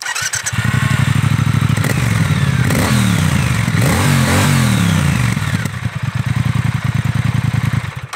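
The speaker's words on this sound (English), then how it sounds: "And the sound of these Bonneville twins is just exceptional." A Triumph Thruxton Bonneville twin-cylinder motorcycle engine revs loudly and close up, rising and falling through several throttle blips with a deep rumbling burble between them, heard alone without talk.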